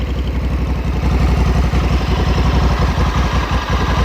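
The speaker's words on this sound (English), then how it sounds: "So standard exhaust." Close, loud idle of a 2020 Honda Africa Twin motorcycle with its standard exhaust, a steady pulsing rhythm with a slight mechanical clatter and no voices.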